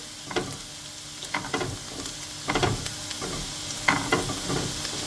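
Ginger and garlic fry in oil for Asian-style chicken wings, a bright hissing sizzle with repeated spatula scrapes and clinks in irregular bursts, close by and without voices.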